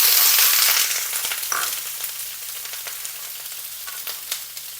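Small shallots dropped into hot oil, setting off a loud initial sizzle that settles into a steady crackle up close, with a few light clicks of stirring and no talking.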